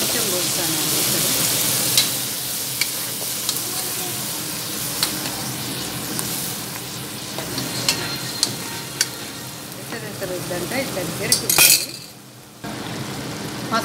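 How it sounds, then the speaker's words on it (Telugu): Mutton curry in a pan sizzles and fries steadily as mutton stock is poured in, with stirring and occasional clinks of a utensil against the pan, close and fairly loud, the hiss dipping briefly near the end. "ఇప్పుడు మటన్లో వచ్చిన ఎసరు పోస్తాను."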